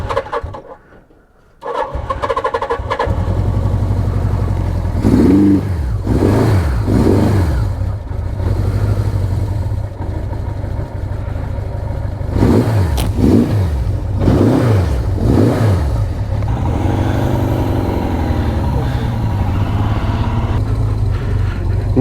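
Old 1980s Suzuki GS 850 cafe-racer motorcycle on choke: after a short hush the engine fires, settles into a loud idle, then revs sharply in repeated blips, close and alone.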